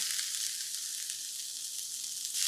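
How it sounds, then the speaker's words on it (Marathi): Modak filling of fresh grated coconut with fried cashew and almond pieces sautéing in ghee over low heat, a steady close sizzle with a faint crackle, continuous and even throughout. "हे सारण आहे ना एक सात आठ मिनिटं छान परतून घ्यायचं तुपावर मंद असं"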